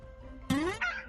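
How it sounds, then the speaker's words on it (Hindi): A rooster crows once in a short, rising, strained call that breaks into a second higher phrase, heard clearly against a quiet background. "जब उसने मुर्गे की बांग को सुना, वो बुरी तरह रोया।"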